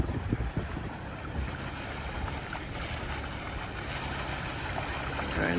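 Out on the water near English Harbour, a sailboat heads out for race practice amid steady wind rush, lapping waves and boat noise, all in a constant broad wash with no talk.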